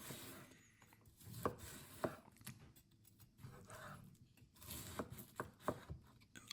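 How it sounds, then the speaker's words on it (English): A sharp knife slices cabbage thinly on a cutting board while sauerkraut is prepared, giving soft, close chopping taps that come in scattered clusters with quiet pauses between them. "Start cutting the cabbage thinly."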